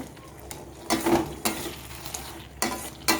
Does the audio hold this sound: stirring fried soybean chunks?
yes